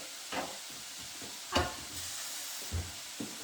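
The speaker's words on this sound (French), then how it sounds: "je vais laisser colorer un petit peu, ok, dans ma casserole" Sliced leeks browning in a saucepan, a soft steady sizzle with a few louder bursts as the pan is stirred, no voices.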